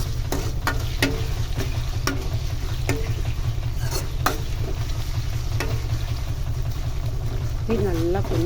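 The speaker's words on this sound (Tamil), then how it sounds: "இந்த இஞ்சி பூண்டு நல்லா வதக்கணும்" Ginger and garlic sauté in hot oil in a pan, a steady soft sizzle over a low hum, broken by scattered clicks of stirring, with a brief voice near the end.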